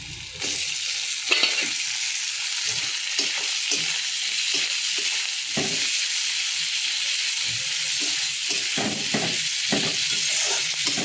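Onions and tomatoes fry steadily in a pan for a potato and fish curry, giving a constant loud sizzle with repeated scraping stir strokes throughout.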